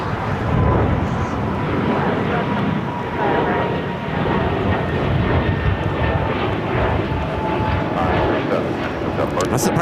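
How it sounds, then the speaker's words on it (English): Breeze Airways Airbus A220-300 jet taking off at LAX, a loud, continuous broadband engine roar that holds steady throughout, heard close with no gaps. "We've got Breeze, Airbus A220, 300, now take it off."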